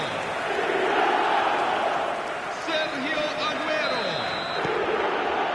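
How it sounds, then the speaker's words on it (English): A stadium crowd in the football game eFootball roars after a goal, a sustained loud swell of cheering with a commentator talking over it. "the crowd level has gone up a notch or 10"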